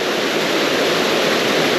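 Water pours steadily over a small waterfall on a trout creek, a dense, even rushing roar that stays loud and constant throughout, with no talk.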